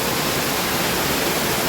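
Waterfall in the Blue Mountains near Sydney, a steady broadband roar of falling water that fills the scene evenly and continuously, close and fairly loud, with no voices.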